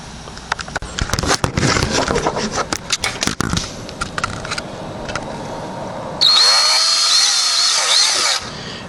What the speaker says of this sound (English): Very easy to drill through.